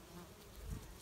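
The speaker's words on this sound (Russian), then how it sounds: "Пчела летает." A honey bee flies past near the hive, its faint, soft buzz swelling briefly midway through a quiet second of sound with no talking.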